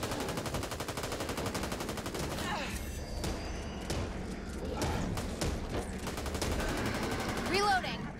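Rapid gunfire in the co-op zombie shooter Back 4 Blood, with dense bursts of shots and thuds. Game effects and brief voices mix in over the steady firing.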